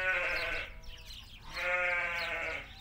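Two loud, close bleats from lambs in a farm setting, each a long wavering cry, separated by a short pause.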